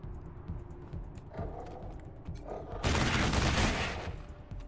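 Sustained machine gun fire from the Wasteland 3 video game, a dense burst of rapid shots that swells loudly in the second half over quieter clicking and combat noise.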